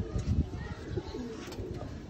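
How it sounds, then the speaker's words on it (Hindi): A Sialkoti pigeon of the rare jonsra chuha type coos softly and close by, giving a few low throaty rolling calls in a quiet room. "टिपर सिर में ये कबूतर है"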